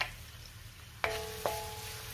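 Garlic tossed into two spoonfuls of hot oil for vegetable fried rice, with two sharp clinks of a utensil against the pan and a faint, steady sizzle that continues behind them.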